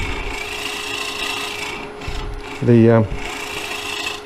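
A woodturning tool scrapes ridges from a wooden bowl on a lathe, a steady rasping rub over motor hum, then a brief loud chattering cut near the end before the rasp resumes.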